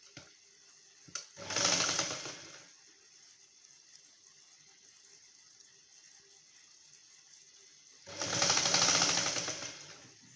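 Sewing machine stitching a prince cut blouse, in two separate runs of about a second and a half each, close but moderately quiet, with near silence in between.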